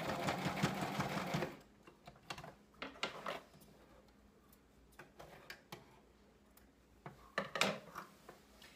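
A sewing machine runs a steady stitching burst while sewing an apron made from a pillowcase, followed by quieter intermittent clicks and short stitching runs, close and faint.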